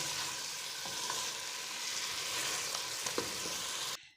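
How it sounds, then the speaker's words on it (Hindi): Chicken tikka masala being stirred as it fries in a pan, with a steady loud sizzle and occasional scrapes of the spoon, close up and without voices, cutting off abruptly at the end. "आहिस्ता आहिस्ता इसको हिलाते रहना है ताकि नीचे ना लगे।"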